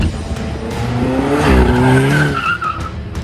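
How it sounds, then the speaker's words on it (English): A 2018 Alfa Romeo 4C with a turbocharged engine accelerating hard, a loud, close, steady roar with a whining tone that climbs and wavers as the revs build, with no voices. "as it pulls and you're in a gear longer, you really get to hear that turbo spooling up and just kind of pushing"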